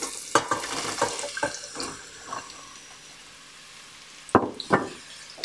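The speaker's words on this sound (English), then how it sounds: "So we're gonna go into our hot pan here with our sweet potatoes." Sweet potatoes drop into a hot pan with a few sharp clatters and splashy sizzles, clustered at the start and again near the end, with a soft hiss between.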